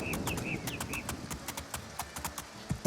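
Horse hooves clip-clopping at a steady walking rhythm in the Two Worlds video game, crisp and fairly close, with a few faint high chirps early on and stormy weather ambience beneath.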